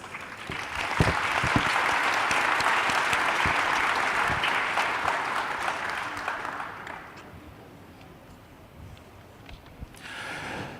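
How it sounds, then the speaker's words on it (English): Conference audience applauding delegates and dignitaries at a public sector forum, sustained clapping that swells quickly, holds for several seconds, then fades away before a brief late flurry. "If you may now join me in giving our delegates and dignitaries a big round of applause."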